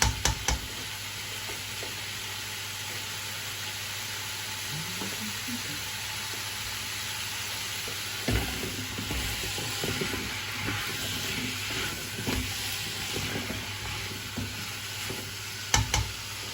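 A beef casserole simmers and cooks down in a pan, giving a constant bubbling, sizzling hiss with scattered clinks and stirring scrapes over a steady background hum.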